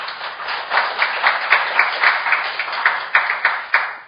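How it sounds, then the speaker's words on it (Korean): Audience applause at a formal Korean academic presentation, a sustained round of clapping in a hall with distinct claps standing out near the end, heard on its own without talk. "다시 한번 큰 박수 부탁드리겠습니다."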